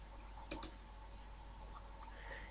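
Two quick computer mouse clicks close together, sharp and fairly quiet, followed by a faint low hum, with no talking.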